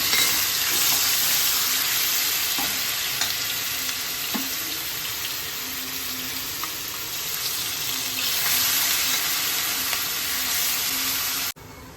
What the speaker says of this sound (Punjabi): ਇਹਨੂੰ ਅਸੀਂ ਹੁਣ ਤੜਕੇ ਦੇ ਵਿੱਚ ਪਾ ਕੇ ਭੁੰਨ ਲਾਂਗੇ